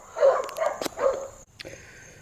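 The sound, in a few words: dogs barking nearby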